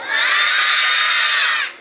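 Loud massed shouting from a crowd at a street Ganesh festival sports event, a dense cheer of many voices held for over a second before dropping off abruptly.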